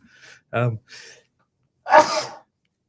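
A brief breathy lead-in and a short vocal sound, then one sharp, close sneeze bursting out loudly.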